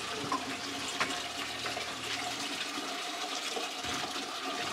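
Water pours steadily into a container outdoors in Korea, a continuous broadband splashing rush at moderate level with small clinks and bumps, no talk over it.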